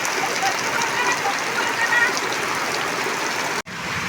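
Heavy rain pours steadily outdoors during the sowing season, a loud dense wash of water that cuts off abruptly near the end.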